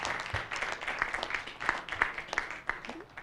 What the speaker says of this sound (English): Please join me to clap for the Ministry of Education officials who have been in this room.